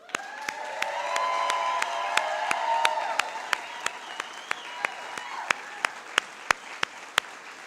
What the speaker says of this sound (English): so let's applaud them.